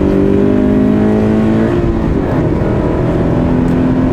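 A Subaru BRZ sports car engine accelerates hard with a loud, continuous rising growl that shifts pitch midway, close and raucous throughout.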